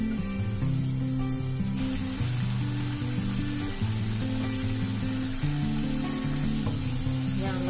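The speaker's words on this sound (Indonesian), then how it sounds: "Panaskan minyak, goreng tempe dengan api sedang sampai dia benar-benar mulai crispy." Tempeh frying in hot oil over medium heat, a continuous close sizzle under a steady tonal background, with no voices.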